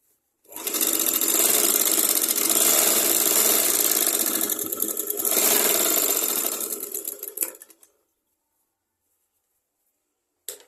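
Sewing machine stitching a back-button blouse: a loud, fast, continuous whirring run lasting about seven seconds, easing slightly midway, then stopping abruptly into silence with a brief click at the end.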